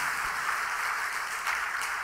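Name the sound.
congregation applause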